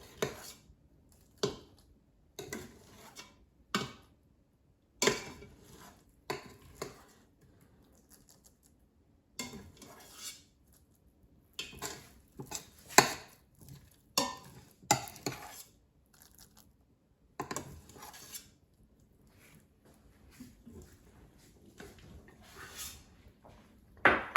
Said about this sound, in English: take it out of the Instant Pot and put it in a bowl